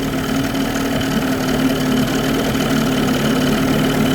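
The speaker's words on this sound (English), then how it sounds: "Engine's running decent" A 1993 Evinrude 30hp short-shaft two-stroke outboard engine runs steadily at idle, a loud, even, buzzing drone with a constant pitch and no breaks.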